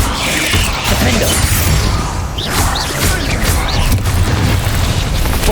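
Bombarda spell blasts in Hogwarts Legacy combat, loud booming explosions with crashing impacts and whooshes in a dense, continuous game mix.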